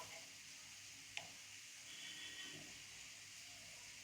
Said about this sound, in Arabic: انا بسيبها تحمر كده في الزيت